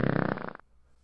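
A single fart, a buzzy rippling blast about half a second long that cuts off abruptly into near silence, close and fairly loud.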